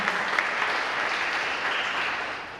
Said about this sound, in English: round of applause for Mary Alice